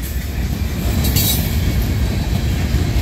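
A Norfolk Southern freight train, the 39G led by locomotive NS 4089, rolls steadily past at close range through Cresson, Pennsylvania, with a constant loud rumble of wheels on rail and a brief high squeal partway through.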